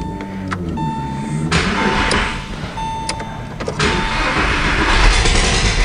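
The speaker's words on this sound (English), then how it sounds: "We'll hear that exhaust coming out, but we're just gonna crank it literally for like it starts" A Porsche 911 (996) engine with a spark plug removed cranks and struggles to catch, a steady churning whir with brief high whines and clicks, loud and close throughout.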